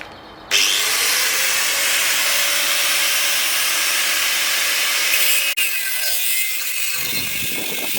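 A power tool cuts through the metal seat mounting frame of a Suzuki Jimny, a loud, continuous high-pitched grinding whine that runs steadily for several seconds, briefly dips, then carries on more roughly.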